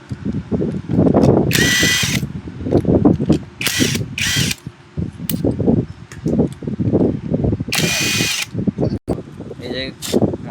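A power tool unscrews an 8 mm nut on a burnt-out e-rickshaw electric motor, sounding in sharp, loud bursts of whirring and ratcheting with brief pauses between, while someone talks nearby.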